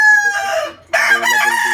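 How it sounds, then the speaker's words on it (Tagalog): A Boston Roundhead rooster crows loudly and close by, one strained, harmonic call with a brief gap before it resumes and trails off. "Ayan, mga Boston Roundhead daw yung mga pula niya."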